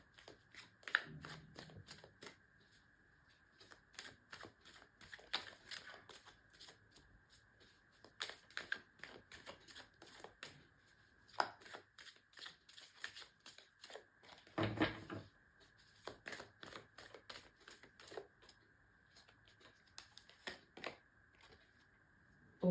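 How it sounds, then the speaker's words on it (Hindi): Tarot cards being shuffled by hand, a quiet run of soft riffles and flutters with short pauses between bursts, close and faint with no voices. "जब तक मैं शफल कर रही हूँ"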